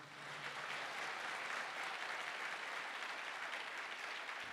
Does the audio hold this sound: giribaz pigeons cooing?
no